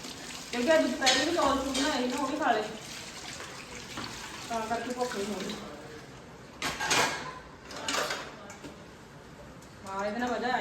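Dishes being washed by hand with soapy water in a home kitchen, giving scrubbing, splashing and clinking sounds in short bursts beneath a person talking.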